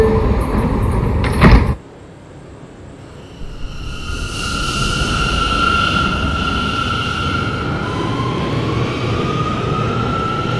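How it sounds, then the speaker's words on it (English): An R179 C subway train sounds a loud, close thump as its doors close, then pulls away with a rising motor whine and steady rumble of wheels on rail that builds as it departs. "Stand clear of the closing doors"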